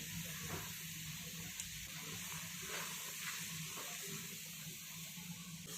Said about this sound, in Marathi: तूप तापलेला आहे आणि याच्यामध्ये आपण रवा टाकून घेऊयात।